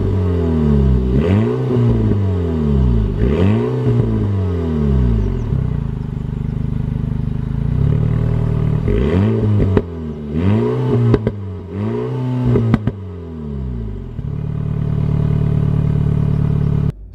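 An Alpine A110 S with a 1.8-litre turbocharged four-cylinder petrol engine accelerating hard through repeated rising gear pulls, each climb broken by a quick shift, loud and close with no talking.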